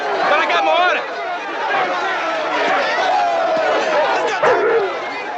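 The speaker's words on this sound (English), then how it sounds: "Get those dogs out of here!" Several dogs barking and yipping in a tense indoor scene, the barks mixed into a busy crowd of overlapping voices and chatter that runs loud and continuous throughout.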